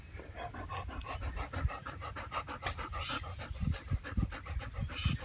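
A small dog pants rapidly and steadily close by, making a quiet, rhythmic stream of quick breaths with no voices.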